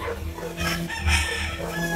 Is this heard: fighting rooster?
yes